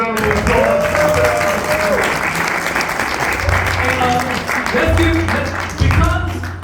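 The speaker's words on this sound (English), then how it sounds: "Give yourselves a round of applause" A crowd at a hip-hop gathering claps loudly and continuously, with a low bassy hum running underneath and a voice speaking over the clapping.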